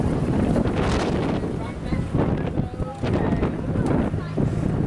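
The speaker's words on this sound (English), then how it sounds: "It's really windy." Strong wind buffets the microphone on a seafront in Bournemouth, a loud continuous roar with gusty surges throughout and faint voices underneath.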